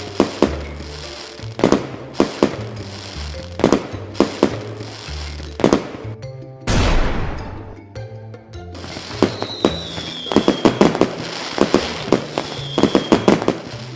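Diwali firecrackers going off in sharp, rapid bursts, with one longer whooshing blast midway and dense crackling volleys afterward, loud and close.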